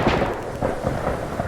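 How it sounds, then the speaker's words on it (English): Thunder from a lightning storm rumbles in a low, continuous roll, loud and close, with no voices over it. "The storm lit up the night sky like the 4th of July, and with every crack of lightning"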